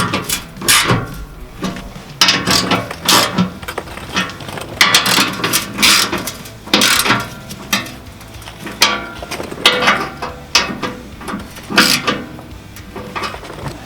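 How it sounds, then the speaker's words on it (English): Repeated clicking bursts of a ratchet driving a 17mm socket as skid plate bolts are tightened, irregular strokes with pauses and handling knocks, close and fairly loud. "tighten them down with a 17mm socket and torque them down to 35 foot-pounds"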